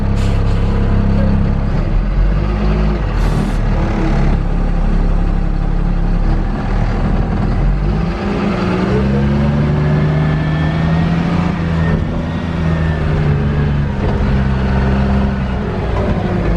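A heavy vehicle's diesel engine runs steadily after being put into gear during a pre-operation check, a loud low rumble with shifting tones throughout.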